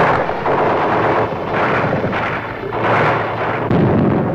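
Dense, continuous rumbling booms and crackling blasts, loud and sustained, like heavy gunfire echoing through streets with no pauses.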